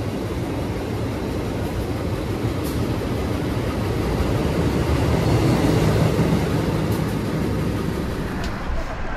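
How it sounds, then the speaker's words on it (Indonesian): A KRL commuter train passes by a station in a loud, steady rumble of wheels on rails that fills the whole stretch, with voices faintly underneath. "Ada KRL duluan nih yang melintas."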